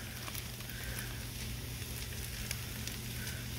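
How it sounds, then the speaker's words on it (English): Gravy heats in a pan with a constant, low sizzle and bubbling hiss that stays even throughout, with a few faint scrapes that suggest stirring and no voices. "Our gravy is heating up nicely."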